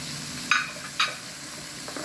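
Diced garlic sizzling in a pan with broccoli for a vegan recipe, a steady soft fry with two sharp stirring clatters about half a second apart, no voices.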